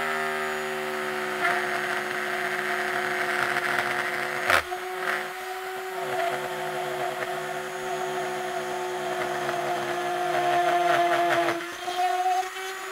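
Router bit cutting the second side of a guitar pickguard, a steady high motor whine running throughout with a brief sharp catch midway and slight chatter as the bit works the slot.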